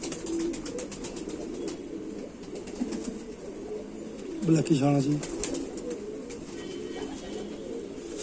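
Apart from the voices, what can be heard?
pigeon cooing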